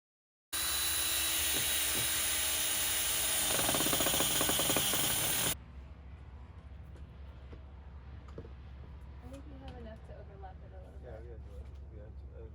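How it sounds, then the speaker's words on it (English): A power driver runs loudly for about five seconds, driving screws to fasten the roof onto a rustic playhouse built from pallets. Quieter handling noise and faint knocks follow. "So now we're screwing the roof on."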